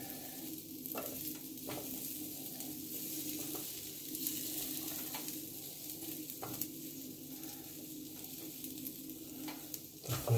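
Potatoes grilling on a George Foreman grill give off a faint, steady sizzle with a low hum beneath it, and a brief louder clatter comes right at the end.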